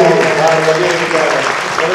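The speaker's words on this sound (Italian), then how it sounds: "Un applauso per Carola Bertuca" Dense, loud applause from the audience at a cultural gala evening, sustained throughout, with a faint voice mixed in beneath the clapping.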